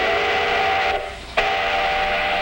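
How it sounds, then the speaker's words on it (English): A Minnesota iron ore train sounds a steady, loud whistle with a brief dip in the middle, rail rumble running underneath, no voices. "That's an ore train, a symbol of a great Minnesota industry"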